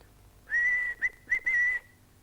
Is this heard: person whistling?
yes